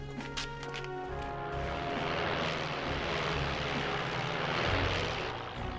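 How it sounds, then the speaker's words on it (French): A motorized pterodactyl in a cartoon flies with a loud, droning propeller-engine roar. The sound holds steady and fills the scene, with a few harsh tonal bursts near the start. "Pyrodactyle à moteur."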